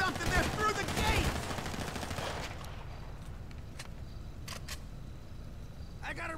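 Gunfire in GTA V during a chaotic shootout: dense, loud rapid shots mixed with excited voices at first, then thinning to scattered, sharper single cracks against quieter background noise.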